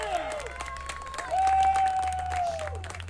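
An outdoor crowd cheers and claps around the 18th hole of a disc golf final at the DGPT Supreme Flight Open, swelling briefly and then holding under a tonal whine.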